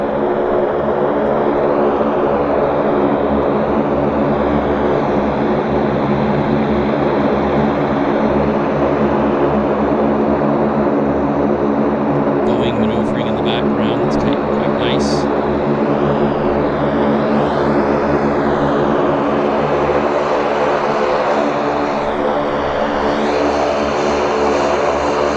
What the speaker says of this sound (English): There's our Saab 340 taxiing in.